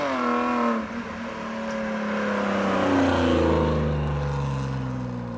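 A BMW E36 engine revs up while drifting, its rising and falling harmonic whine sweeping through pitch over several seconds, loud and fairly close.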